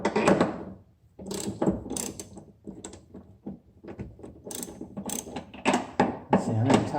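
A ratchet works on a subframe bushing collar bolt on an Infiniti Q50/Q60, giving repeated close clicking bursts of pawl action with short pauses between sets, loud and alone.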